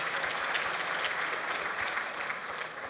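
A luncheon audience at an annual meeting applauds the servers, with steady, dense clapping from a large crowd that fills the whole stretch at an even level.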